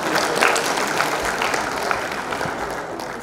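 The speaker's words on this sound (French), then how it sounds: "on applaudit encore bien fort." Audience applause at a school French-language competition, a steady dense clapping wash from a crowd filling the whole stretch at moderate level.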